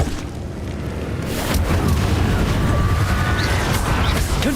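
Explosive spells blast continuously during a Hogwarts Legacy fight against Inferi, a loud, dense rumbling roar of booms and crackling bursts that barely lets up, with no talking.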